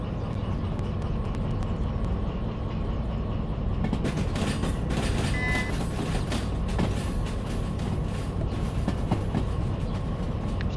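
A train in the video game DV Sim rumbles steadily along the rails with a constant loud roar, and faint clicks and a brief tone ring out over the running noise.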